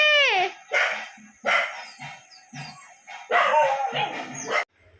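A dog barks loudly and repeatedly nearby, sharp rising yelps in an uneven rhythm with short pauses between barks.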